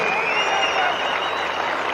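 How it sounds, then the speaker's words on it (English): Crowd at a Sydney Dragway drag racing event giving a standing round of applause, a dense, loud wash of clapping sustained evenly across the whole short stretch. "Everybody's getting up and giving him a round of applause."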